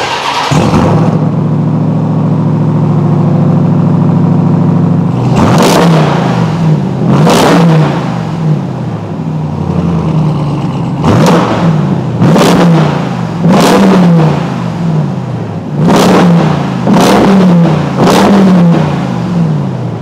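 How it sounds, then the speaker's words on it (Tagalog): A 2021 RAM TRX pickup barks through its five-inch performance exhaust tips, first a deep loud idle and then a run of sharp, repeated revs close by, each one rising and dropping back, with no voices. "eto yon yung performance exhaust tips natin, 5 inches ang diameter ng bawat isa dito at dito at eto na ang exhaust sound niya"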